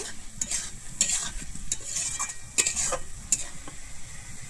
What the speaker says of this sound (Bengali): আমি আলুটা দিয়ে কিন্তু মশলার সঙ্গে আমি 1 মিনিটের মতো কষিয়ে নেব।